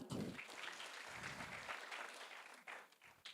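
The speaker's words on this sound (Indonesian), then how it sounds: "bolehkah tepuk tangan untuk Tuhan?" Applause from a church congregation, steady clapping that swells and continues for a few seconds, fairly loud and close.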